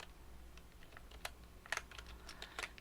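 Soft, scattered key presses on a computer keyboard, hitting Delete and Ctrl+D while editing in Photoshop: a handful of light taps spread irregularly over a quiet background, close but faint.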